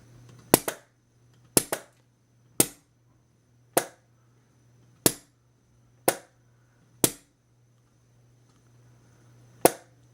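Eight sharp pops from an HPA-powered SR-25 airsoft rifle with a Reaper engine, fired single shots at irregular intervals, two in a quick pair, over a faint steady hum.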